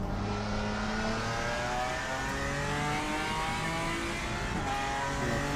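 A GT4 race car in a racing video game braking under ABS, its engine note droning steadily and loudly with rising and falling harmonics throughout, no voices over it.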